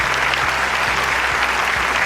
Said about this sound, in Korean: 수여 받으실 때 큰 박수 부탁드립니다